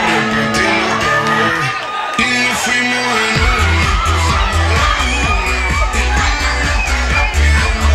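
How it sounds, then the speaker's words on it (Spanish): A crowd at a quinceañera party shouts and cheers over loud batucada drumming, with whoops and yells rising above a pounding rhythmic beat throughout. "Y esta noche el grito bien chingón para Marely"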